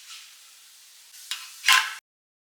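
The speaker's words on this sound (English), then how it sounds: "Heat a pan with some butter and place the tikkis gently. Roast them on both sides until they turn golden, crispy and perfectly cooked." Spinach tikkis fry in butter in a pan, giving a soft steady sizzle that rises in a couple of brief louder bursts before cutting off abruptly.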